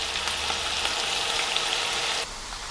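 Pork frying in a hot pan with sugar and fish sauce, a loud, steady sizzle that runs unbroken and then drops a little in level near the end.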